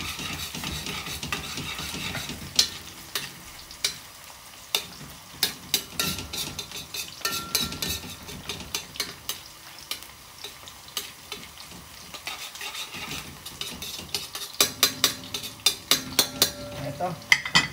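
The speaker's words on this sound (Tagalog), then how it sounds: "Hintayin lang natin siyang medyo mag-caramelize ang ating onion at medyo mag-brown ang ating garlic." Onion and garlic frying in a pan for Filipino beef steak, a soft continuous sizzle broken by frequent sharp clinks and scrapes of a utensil stirring against the pan, close and steady.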